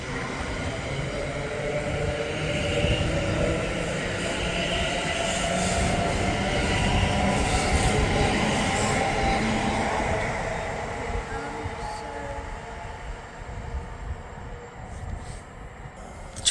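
A London Northwestern Railway passenger train rumbles and clatters steadily as it pulls away from Berkhamsted station, with faint squeals from the wheels, gradually fading.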